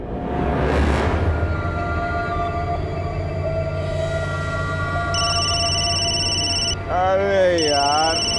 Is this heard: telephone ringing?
yes